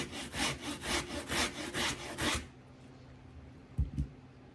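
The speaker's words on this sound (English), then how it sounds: "I know it says minced, but I'm using this fine grater thingamajiggy here." Vegetables for coleslaw scraped on a fine grater: about eight rhythmic, close rasping strokes in quick succession, followed by quiet and two soft knocks.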